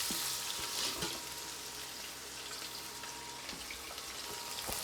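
Onion frying in hot oil in a pan on an induction stove, a steady dense sizzle with faint scattered pops and crackles, close and continuous with no talking.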